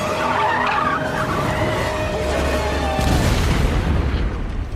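A CGI explosion from the 2017 film Jeepers Creepers 3, a loud dense roar with a tire-squeal-like screech at first, then a deep booming surge that fills the second half.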